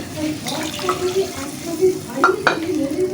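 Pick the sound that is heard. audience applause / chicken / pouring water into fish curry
pouring water into fish curry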